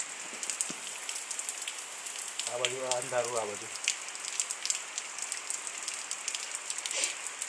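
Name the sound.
monsoon rain falling near village pond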